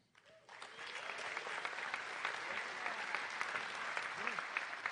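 Audience applause fills a school baccalaureate ceremony for several seconds, a dense, steady wash of clapping from many hands that swells in after a quiet start, with faint voices mixed underneath.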